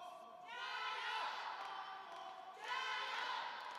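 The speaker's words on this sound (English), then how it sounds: "You can hear the crowd here, a lot of Chinese supporters and fans in the crowd." Chinese fans in a table tennis arena cheer and shout in two loud swells, a dense roar of many voices that rises, dips briefly, then surges again.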